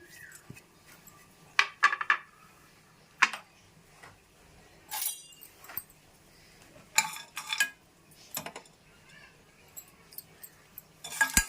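Whole peppercorns, coriander seeds, cumin, cloves and cinnamon dry roasting in a pan, quiet with scattered clinks, rattles and scrapes of a utensil moving the spices, no talking.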